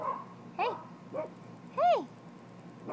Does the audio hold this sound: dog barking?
yes